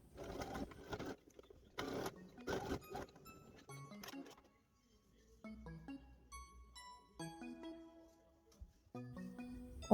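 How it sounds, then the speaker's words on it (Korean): Sewing machine topstitching a sweatshirt seam, quiet bursts of fast needle chatter starting and stopping, with soft background music notes in between and no voices. "마지막으로 시접을 몸판 쪽으로 넘긴 후에 예쁘게 스티치"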